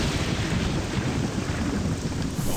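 Heavy rain in the video game Morrowind, a dense, continuous roar of wind-blown downpour with no break, loud and close throughout.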